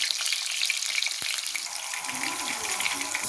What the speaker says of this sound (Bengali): 4টে আলু দিয়েছি, ভেজে নেব